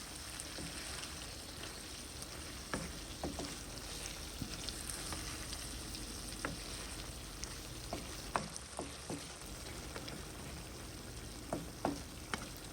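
Chicken liver frying in a pan with roasted cumin powder, stirred: a steady close sizzle punctuated by scattered sharp clicks and scrapes of a spatula, with no voices.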